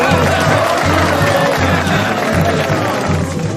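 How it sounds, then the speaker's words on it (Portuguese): Loud crowd clapping and cheering fills the space at a Rio carnival samba school review, with a steady low rumble underneath and no clear voices standing out. "Palmas para a roupa da Jassanã"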